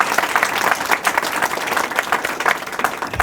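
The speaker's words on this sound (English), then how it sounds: "please give a round of applause to the mayor and his leadership team, and also Councilman Baraka." An audience at a Newark city announcement claps steadily, a dense, sustained round of applause from many hands filling the room.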